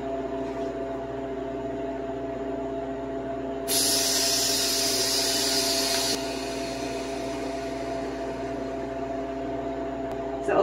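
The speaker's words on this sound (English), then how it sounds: "So opening the drain valve vents the vacuum and allows air to enter the chamber." A Harvest Right freeze dryer's drain valve is opened, releasing the vacuum with a loud, steady rush of hissing air for about two and a half seconds over the machine's constant low hum.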